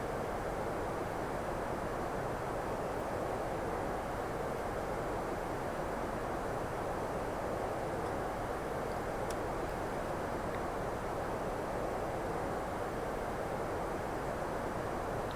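An Airbus A319 airliner in a flight simulator descends toward landing, heard as a steady, even engine and airflow drone that holds unchanged throughout.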